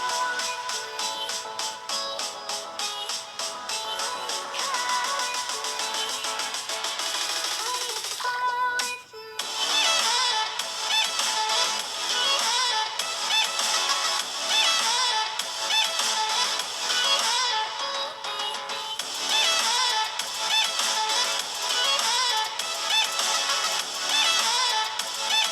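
A Realme Narzo phone's mono speaker plays test audio: continuous, loud, bright music with a brief dropout near the middle, heard alone without talk.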